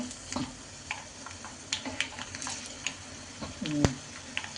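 Oil crackles and sizzles in a pan as spices are tempered for garlic chilli powder, with intermittent pops and clicks, fairly quiet, with some stirring noise and a brief louder burst near the end.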